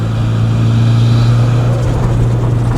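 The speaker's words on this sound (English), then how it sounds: "Have a listen to that turbo, mate." A 500bhp Subaru Impreza WRX STI with a built 2.1-litre engine drives with its turbo spooling, a loud, steady low engine drone with a faint rising whistle on top.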